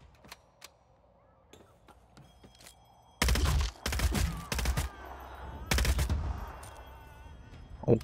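Gunfire in the video game Vampire: The Masquerade – Bloodhunt: after a quiet stretch with faint single shots, loud rapid volleys break out in two bursts, then fade back to near silence.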